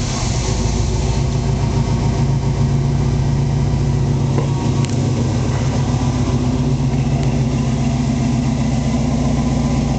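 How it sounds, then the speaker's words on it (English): A 1979 Pontiac Trans Am Y84 Special Edition with Flowmaster dual-tip exhaust idles steadily and close by, a continuous low, even rumble with no speech over it. "Let you hear it run. So start up with the turn of a key."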